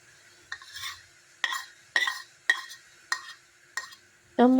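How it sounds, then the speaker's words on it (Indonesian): Batter for choi pan dim sum dough is stirred in a pot over medium heat with cooking oil, giving six evenly spaced scraping strokes of utensil on metal against a quiet background, then a louder clatter at the end. "Setelah itu kita masak dengan api sedang sambil terus diaduk sampai mengental."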